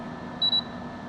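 Instant Pot Omni Plus 18L toaster oven air fryer sounding its alert, a quick double electronic beep, clear and close over quiet room hum.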